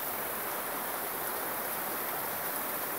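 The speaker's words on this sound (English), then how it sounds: "It's a wonder what rolling water and waterfalls, the sound of water will do to your psyche" Steady rushing water from a small waterfall and stream in Central Park, a continuous broadband wash with no talk.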